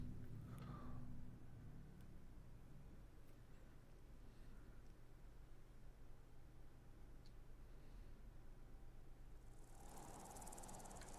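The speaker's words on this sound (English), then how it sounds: "I definitely hear bugs" Insects chirp steadily in Fallout 4 with the Sim Settlements 2 mod, a dense, even buzz that runs unbroken the whole time, with a louder hiss swelling briefly near the end.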